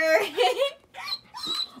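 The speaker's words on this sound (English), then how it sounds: "Usually she barks. I heard a whimper." A dog whimpers in short, high, wavering whines, three brief bursts close by, an excited pet about to go out on a run.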